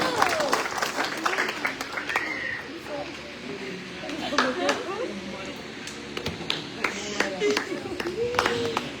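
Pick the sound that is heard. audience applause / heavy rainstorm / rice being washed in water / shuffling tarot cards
audience applause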